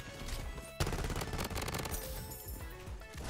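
Gunfire rattles in the video game Bloodstrike, a sudden loud shot followed by rapid bursts of automatic fire and scattered impacts.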